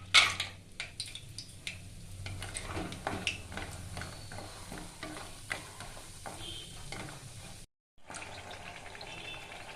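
Lentil dumplings (bori) fry in hot mustard oil with a steady close crackle and sizzle, broken by stirring clatter, a brief silence near the end, then the frying resumes.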